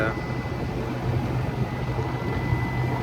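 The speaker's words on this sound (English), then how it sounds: "we're just coasting down using the engine because there's very little wind" Sailboat motoring on its engine in very light wind, a steady low mechanical drone with broad wash across the whole stretch, constant and fairly loud, with a voice talking over it.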